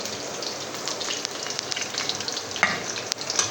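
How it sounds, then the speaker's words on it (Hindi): Okra (bhindi) frying in a pan for spicy bhindi, a dense continuous crackling sizzle with scattered pops and a few stirring scrapes, close and steady with no one speaking. "भिंडी हमारी ब्राउन हो गई है, फ्राई हो चुकी है थोड़ी"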